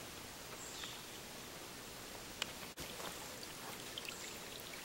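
A clear-water brook flows along a hiking trail with a soft, steady babbling trickle, close and fairly quiet, with one sharp click midway.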